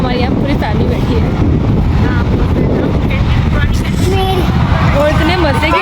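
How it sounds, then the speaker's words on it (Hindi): Strong wind in a park buffets the microphone with a constant rough roar, and people chatter and talk over it throughout. "इतने मज़े की हवा चल रही है"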